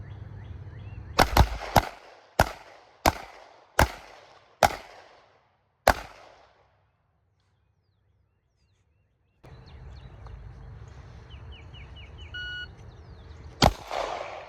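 Handgun shots fired at a target on a shooting range: six sharp loud cracks in an evenly spaced series with short ringing tails, then silence, a stretch of low background noise and one more distant crack near the end.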